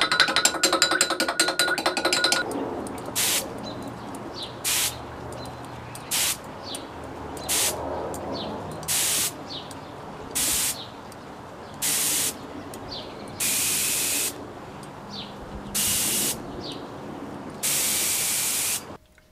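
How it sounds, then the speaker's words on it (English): A fine-tuned paint spray gun lays thin coats on motorcycle bar ends for a 2020 Yamaha MT-09, hissing in about nine short, even bursts separated by quiet pauses, after an earlier stretch of mechanical noise. "after fine-tuning the gun, the whole idea is to get it to just spray like an airbrush"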